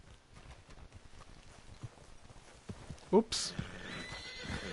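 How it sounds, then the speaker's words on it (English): A horse in the video game Red Dead Redemption II whinnies and its hooves clip-clop, mixed with game ambience and someone talking over it. "Is one of you gonna get that fella's horse?"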